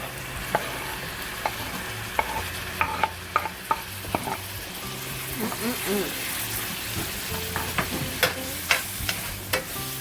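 Chopped Roma tomatoes hit a pan of golden-brown garlic for frijoles charros, setting off a steady sizzle with scraping stirs and sharp clicks of a utensil against the pan, close by, with a voice talking over it.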